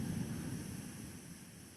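Ocean waves wash in a low, steady rumbling roar, soft and distant, with a gentle swell fading slightly toward the end, alone without speech.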